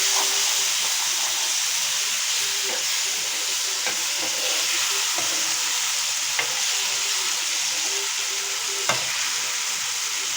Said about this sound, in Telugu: ఇలా ఉంది, చక్కగా ఉడుకుతూ ఉంది.